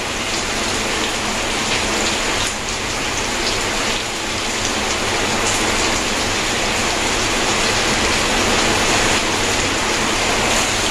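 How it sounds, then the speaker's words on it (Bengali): Heavy rain pours down in a dense, steady roar of drops hitting surfaces, loud and unbroken throughout. "শুনতে পাচ্ছেন কি জোর বৃষ্টি হচ্ছে?"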